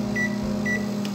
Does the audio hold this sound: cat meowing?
no